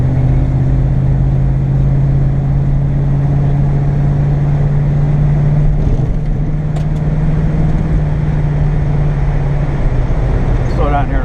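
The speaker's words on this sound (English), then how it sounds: "Slow down here and accelerate one time up." The engine of a 1962 vehicle drones loud and steady from inside while driving, slowing then pulling up again, with road noise throughout.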